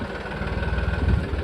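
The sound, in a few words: Massey tractor engine starting with self-starter and idling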